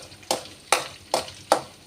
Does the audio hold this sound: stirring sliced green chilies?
yes